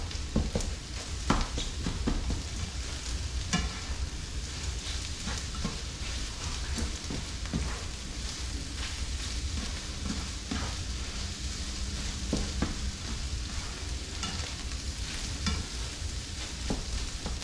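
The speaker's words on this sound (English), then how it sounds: "break it down a little bit here with the spatula" Food fries in a pan with a steady, close sizzle while a spatula scrapes and breaks it up in scattered clicks and scrapes throughout, with no talking.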